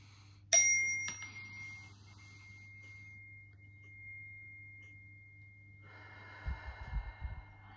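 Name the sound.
three chimes rung to clear room energy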